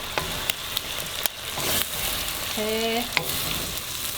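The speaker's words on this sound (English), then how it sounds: "now the bottom start cooking. The bottom of the egg start cooking" Eggs fry in a wok for pineapple fried rice, a continuous close sizzle broken by sharp clicks and scrapes of a utensil, with a brief spoken word in the middle.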